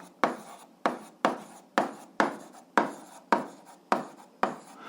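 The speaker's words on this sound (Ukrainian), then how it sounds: "Записуємо тоді закон" Pen strokes on paper while a physics equation is written out, nine crisp evenly spaced scratches each fading quickly, close and clear with no talking.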